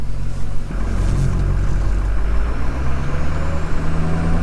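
Ford F250 truck with a 6.0 Powerstroke diesel engine, rewired and driving on a street, with a loud, steady low rumble and a slight rise in pitch as it picks up speed, with no talking.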